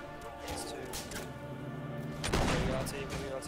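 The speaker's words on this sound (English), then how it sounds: "They're preparing to volley fire." Musket volley fire in a video game set in the American Revolutionary War, a dense burst of gunshots around the middle of the clip over constant battle noise and game sound.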